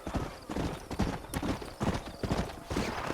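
Hooves clip-clopping in a steady walking rhythm in the video game Red Dead Redemption, several horses close by, with no one talking.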